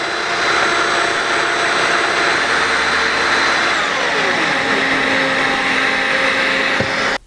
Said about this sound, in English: the Domino XL has a rotating cutter, and as it rotates, it spins side to side, hollowing out material to create a mortise